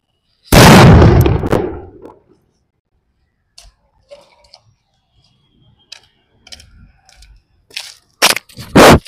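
A Diwali sutli bomb firecracker goes off with one loud, sharp blast that crackles and decays over a second or two, followed by scattered faint pops and rustles and a couple of sharp bursts near the end.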